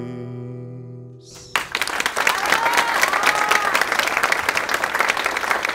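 A sustained musical tone breaks off, then a full audience erupts into loud, dense applause for performer Taner at a live comedy show, clapping steady and close with a few faint whistles.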